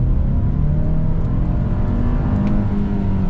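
A new Hyundai Santa Fe Calligraphy accelerates, its engine producing a loud, continuous whirring roar that holds steady and close throughout, with no talk.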